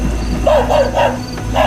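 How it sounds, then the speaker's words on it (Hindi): A few short, high yelping barks in quick succession, fairly close, over a low background hum. "कुत्ते लगातार भौंक रहे थे,"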